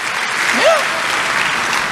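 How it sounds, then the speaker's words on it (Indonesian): Church congregation applauding in a steady, full burst of clapping during a sermon, with a brief voice rising over the clapping early on. "Tepuk tangan yang paling meriah buat Tuhan."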